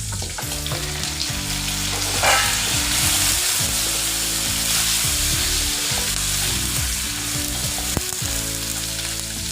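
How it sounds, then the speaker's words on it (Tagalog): Pork ribs drop into a hot pan and sizzle loudly and steadily up close, with crackling spits and utensil scrapes as they are moved about. "Guys, ilalagay na natin ang pork ribs."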